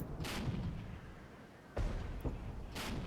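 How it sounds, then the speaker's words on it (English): Artillery shelling in the video game Regiments: a few heavy distant booms with a rumbling low thud, spaced irregularly over a constant battlefield background, with no talk. "Enemy artillery is shelling us again."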